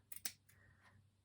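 Scissors snip fabric scarf fringe on a cork ornament craft, a few quick close sharp cuts in quick succession, then faint rustling, with no talking.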